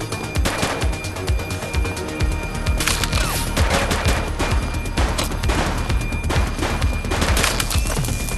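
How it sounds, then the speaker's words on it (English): Rapid volleys of gunfire in a true-crime police scene, sharp shots cracking in dense bursts and fusillades, loud and close, continuing throughout. "He's shooting!"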